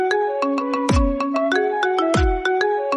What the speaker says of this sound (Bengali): একটু আগে যে রিংটোনটি বাজছিল